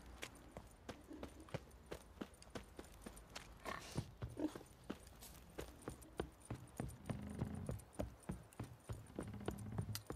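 Horse hooves clip-clop in The Witcher 3: Wild Hunt, a steady run of sharp, evenly spaced hoof strikes at close range, mixed with faint jingling tack.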